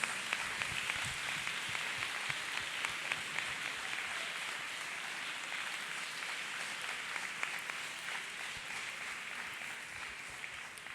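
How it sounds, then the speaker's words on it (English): A church congregation claps its hands during a testimony service, a soft, distant patter of many hands that keeps an even pace throughout. "Let us clap hands for Jesus."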